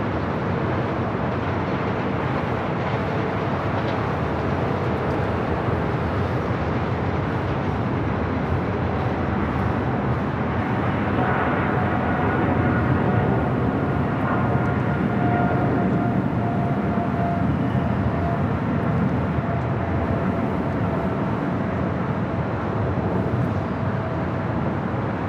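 A CRJ-200 jet lands on runway 24 right at LAX, its engines a steady broadband roar throughout with a faint rising whine, loud and continuous with no talk.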